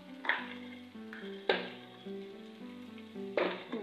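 Tomatoes sizzle and fry in a pan while chana is being made, a steady close sizzle with brief stirring clatters and pan knocks over a low background hum.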